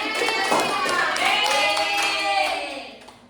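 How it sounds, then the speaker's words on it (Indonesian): Hand clapping in a classroom-like group, a brisk flurry of claps over chattering voices and what sound like children's cries, fading toward the end. "Iya, tepuk tangan."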